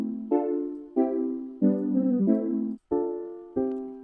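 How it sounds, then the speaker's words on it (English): Soft lo-fi keys in FL Studio play a slow sequence of sustained chords, each struck and left to fade, with a short gap before the final two chords, mellow and unaccompanied. "This is the lo-fi keys here."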